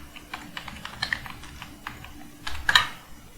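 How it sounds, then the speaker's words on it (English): Typing on a computer keyboard: a quick run of light, close key clicks, ending in a louder flurry of taps. "In Google, you please type download JDK."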